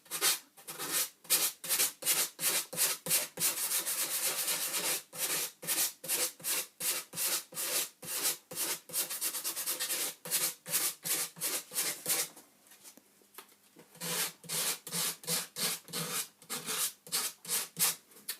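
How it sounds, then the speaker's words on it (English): Rhythmic rubbing strokes of sandpaper on the wooden neck of a classical guitar being carved, a fast regular series of near, scratchy passes with one short pause before the strokes resume. "it's going to be a good half an hour of work sanding and cleaning it up"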